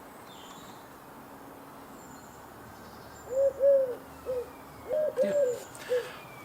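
Birds calling at the bottom of a garden, a run of clear hooting, owl-like notes arriving in short bursts over the second half against a low outdoor hum, with a single brief spoken word.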